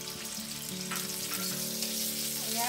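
Bell pepper and broccoli stir-fry in a pan with a loud, dense sizzle and occasional scraping as they are stirred, while a voice speaks briefly over it.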